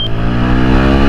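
A car accelerating through its gears, the engine loud and close with a strong steady harmonic drone that holds at high revs through the whole brief burst.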